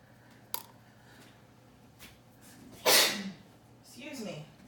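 A single sharp sneeze bursts out against quiet room noise, followed by a softer voiced sound.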